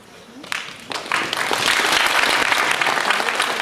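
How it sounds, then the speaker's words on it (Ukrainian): Applause from an audience at a student ID card ceremony in a college hall swells quickly after a few first claps into loud, dense, sustained clapping that carries on to the end. "Аплодисменти Анатолію Миколаєвичу."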